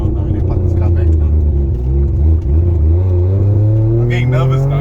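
Mazda RX8 rotary engine revving during a night drive, a loud steady drone that swells and climbs in pitch toward the end, with people talking over it.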